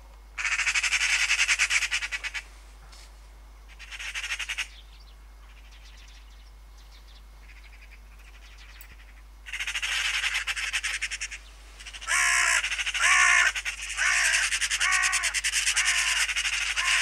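Magpies and crows over an oat field in November, agitated, trade loud harsh chattering squawks and caws in repeated bursts separated by short quiet gaps, growing busier toward the end.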